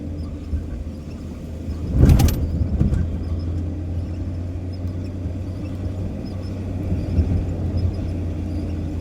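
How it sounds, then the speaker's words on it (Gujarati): An Alto car creeping along at 40-50 km/h in heavy rain, a low steady engine hum with rain and road noise, and a sharp burst of knocking or wiper-like sound near the start. "40-50ની સ્પીડમાં માણ હાલે ગાડી"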